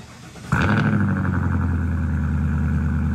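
A 2022 Ford F-250 pickup's 7.3-litre Godzilla engine fires up abruptly, then settles into a deep, steady idle with a low rumbling throb, close and loud.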